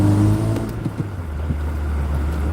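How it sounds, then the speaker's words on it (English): A car engine revs under a bridge, loud and close, with a deep steady drone and a few short throttle blips echoing off the structure. "you have to put your foot down ever so slightly, just because you can get to enjoy the sound of your engine"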